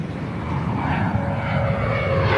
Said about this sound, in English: Nose gear touchdown.